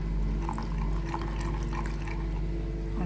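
Plain clean water poured for Vietnamese banh deo, a steady close liquid stream over a low constant hum.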